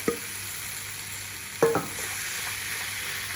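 Root vegetable hash on a high flame in a pan, a low steady sizzle punctuated by two scraping stirs of a spoon, one at the very start and a sharper pair later, quiet and close with no talk.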